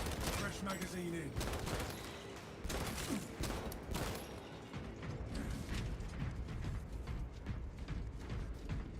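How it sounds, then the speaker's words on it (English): In the Warhammer 40,000 game Space Marine 2, a fresh magazine is loaded amid dense combat: mechanical clicks and ratcheting under a busy barrage of gunfire and clatter, fairly quiet overall. "Fresh magazine in."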